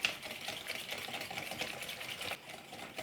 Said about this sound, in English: And then whisk this until it's really combined.